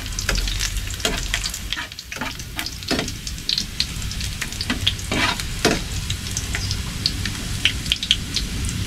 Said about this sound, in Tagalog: pa-brownie muna natin yung bawang